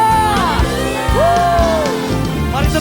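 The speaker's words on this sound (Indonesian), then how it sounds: "Sorakan haleluya." A church congregation shouts and cheers hallelujah together during a worship service, a loud crowd roar with rising whoops and sustained voices filling the room.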